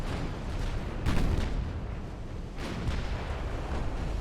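Warship guns firing in the Ultimate Admiral Dreadnoughts naval battle game: deep, rumbling booms over a constant roar of battle noise, with heavier salvos landing about a second apart, loud and without talking.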